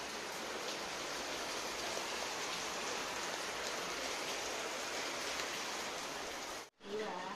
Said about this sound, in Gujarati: બહાર તો વરસાદ આવે છે